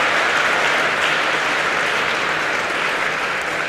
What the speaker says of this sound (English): Applause from all corners, including from the opponent.